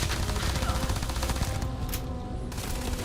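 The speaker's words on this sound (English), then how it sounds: "I love this Kraken, like, automatic pistol. It just melts through ammo" A Kraken automatic pistol fires in rapid sustained bursts in the space game Starfield, dense loud shots running continuously with faint talk mixed in.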